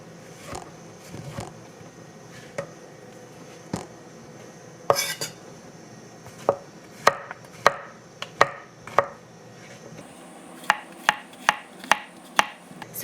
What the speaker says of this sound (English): So I like to actually cut the mushrooms like this in quarters, like that.